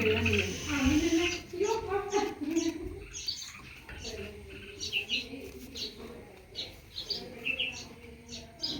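Several birds chirp and call in a natural outdoor setting, short tweets and coo-like notes scattered over a person talking nearby.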